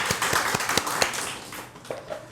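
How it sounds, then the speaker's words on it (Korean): A church congregation gives scattered clapping for the children, with a few distinct sharp claps in a loose rhythm that soon thin out and fade. "우리 자녀들을 위해 다시 한 번 더 박수하겠습니다"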